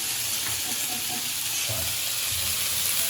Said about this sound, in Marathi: त्याला फ्राय करायला ठेवलेत मस्त.